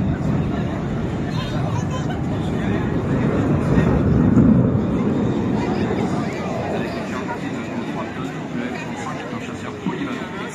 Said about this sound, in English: Let's film this noisy bugger. Whatever it is. It looks like an F-35